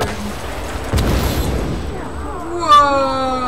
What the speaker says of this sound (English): that's gonna be a massive explosion.